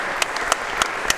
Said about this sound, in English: big round of applause for 2 outstanding players